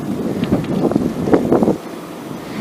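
Wind buffets the microphone in low, gusty rumbles while cycling with a tailwind, strongest in the first couple of seconds before easing to a softer rush.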